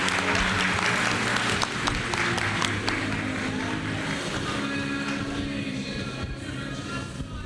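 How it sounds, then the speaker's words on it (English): Audience applause at a cannabis industry conference, a steady wash of clapping filling the hall without pause, loud and continuous, with engine-like rumble underneath. "Another warm Benzinga applause."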